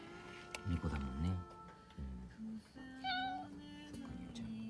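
A stray cat meows several times in short, rising calls, fairly close but soft, while someone talks gently to it in the background.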